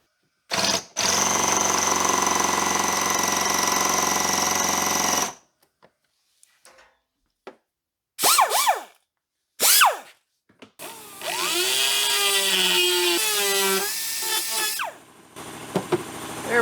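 A power drill whines steadily for several seconds, stops, then comes back in short bursts before a longer, wavering run near the mic, drilling out a seized bolt on a 2004 Honda CR-V.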